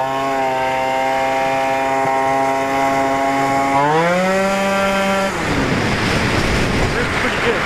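Tuned scooter engine revving hard to high RPM, a loud, close buzzing whine that holds steady, climbs sharply in pitch, then breaks into a rough rushing roar as it lets off.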